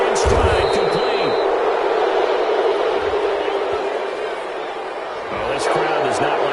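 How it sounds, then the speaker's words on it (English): A football stadium crowd reacts to a penalty call with a broad, sustained roar of disapproval, loud and distant-sounding, while a commentator talks over it. "Oh, this crowd does not like that call."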